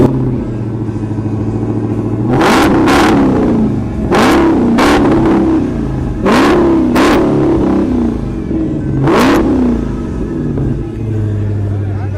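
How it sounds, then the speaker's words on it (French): A yellow 2017 Dodge Challenger at an outdoor car show revs hard through a loud muffler, with about seven sharp, close throttle blips over a steady, rumbling idle. "si vous venez d'entendre le bruit de ce muffler, ce silencieux qui n'était pas très silencieux"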